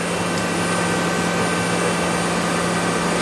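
A Mazak QTN-100P CNC lathe spindle runs at about 1283 RPM, giving a steady, loud, unbroken machine hum with a constant low drone and a fixed whine on top, holding the same level throughout with no voices.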